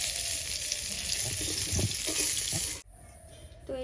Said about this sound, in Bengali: বাকি মাছগুলো ভেজে নেব একই রকমভাবে লাল লাল করে